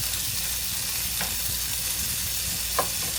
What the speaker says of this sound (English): So we're gonna let this cook up some our peppers.